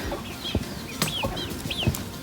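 Chickens clucking nearby along a rural stretch of the Camino Frances in Spain, several short throaty clucks and rising calls repeating irregularly over a faint outdoor background.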